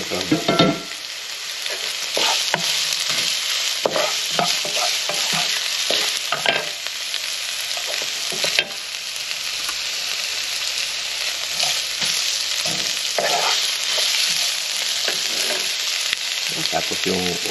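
Crab frying in a pan with garlic, ginger and onion, a steady loud sizzle with bursts of stirring and scraping throughout, no voices.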